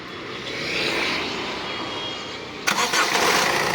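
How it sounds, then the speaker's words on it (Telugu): A 2016 Honda Mobilio engine is started, a rising whir under steady background noise before it catches and runs with a louder burst near the end. "ఇంజిన్ ఆఫ్ చేశానన్నా మళ్ళొకసారి స్టార్ట్ చేస్తున్నాను చూడండి"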